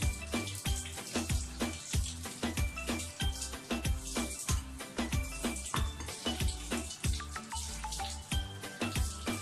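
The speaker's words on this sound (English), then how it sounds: "Under running water, you wash away all the salt." Salted cabbage for Korean kimchi is rinsed under a running tap, with steady close splashing and irregular sharp drips and knocks of leaves in the water throughout, no voices.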